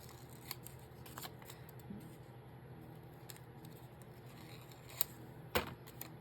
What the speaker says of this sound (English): I'm just going to use these scissors right here because they're handy, and I'm just going to cut that and that